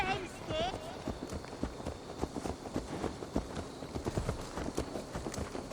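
A horse's hooves clip-clop in Assassin's Creed Valhalla, a quick run of irregular thuds at a moderate distance, with game voices and other in-game noises over them.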